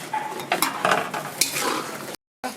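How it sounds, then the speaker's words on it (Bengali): Peas being stirred in a pan after water is added, with wet scraping and sloshing strokes and a faint sizzle, close and continuous before a brief dropout near the end. "সামান্য নাড়াচাড়া দিয়ে আমি জল দিয়ে দিচ্ছি মোটরটা সিদ্ধ হবে"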